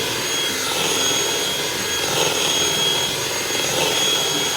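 An electric mixer whirs at high speed through sugar-free cheesecake batter, a loud steady close whine with a broad hiss that holds evenly throughout, with no talk.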